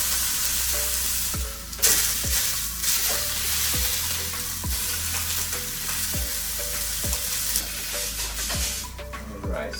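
A steak sears hard in a hot pan, giving a loud continuous sizzle and hiss with repeated sharp clinks and scrapes from a utensil at a steady rhythm, no talk.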